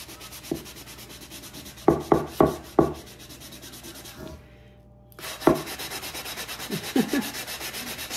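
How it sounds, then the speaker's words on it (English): Scrubbing a small spot on a surface with The Pink Stuff cleaner, a series of short, sharp rubbing strokes in quick bursts, a brief silent gap, then a few more scrapes over a soft background hiss. "Let's keep scrubbing that little spot right here."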